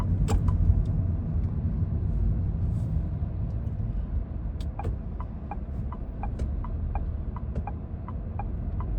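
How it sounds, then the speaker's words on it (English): A car drives through afternoon city traffic in Riyadh, its cabin filled with a steady low engine and road hum, with a few faint clicks and ticks over the continuous rumble. "There's a lot of traffic and we are a part of this traffic."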